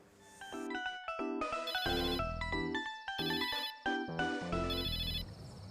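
A telephone ringtone plays a bright, melodic electronic tune, loud and close, its repeating chime phrases running continuously with no talk over them.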